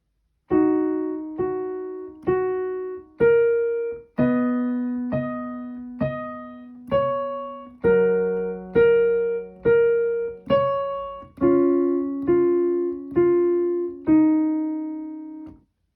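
Slow piano playing with both hands, sustained chords and a simple melody in a steady, evenly paced rhythm, each note ringing before the next.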